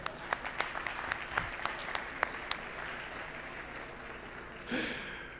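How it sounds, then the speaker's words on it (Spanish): A live audience claps at a talk, with sharp individual claps at first, then a fuller burst of applause swelling near the end. It is moderately distant. "Un aplauso, por favor."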